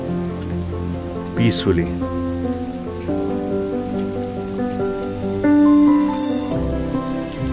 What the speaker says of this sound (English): it's like raining really heavily